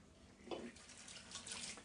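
Warm tap water rinsing a Netherton Foundry cast iron pan in a sink: a steady, close rush of running water that swells and splashes as the pan moves under the stream.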